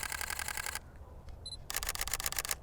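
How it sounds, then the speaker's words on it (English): Sony a6400 and a6100 mirrorless cameras firing bursts of rapid shutter clicks, with one fast run, a short pause holding a faint beep, then a second rapid run, close and crisp. "the shutter does sound a bit different between these two cameras"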